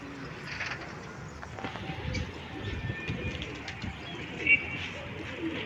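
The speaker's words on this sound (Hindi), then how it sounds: "एक से एक कबूतर है इस कबूतरों में, आप देख सकते हैं।" Pigeons at a hobbyist's loft coo softly in the background while someone talks, with a few faint scattered bird calls and rustles.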